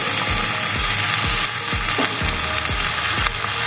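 Vegetables frying in a pan for a traditional Bengali small-fish curry, a loud constant sizzle with regular scraping or stirring clicks repeating through it.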